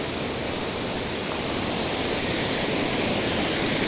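Water pours over the weir on the River Yarrow, making a dense, constant rushing hiss that stays even and unbroken, with no voices.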